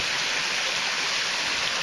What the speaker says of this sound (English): here's that waterfall. Not as grand as it sounded, but it sounds a lot louder because the rock underneath is sort of hollowed out from the pool